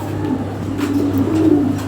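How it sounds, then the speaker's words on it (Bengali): Pigeons, white Bombay pigeons, coo softly nearby in low repeated murmurs over a steady background hum. "একদম নতুন কবুতর আছে"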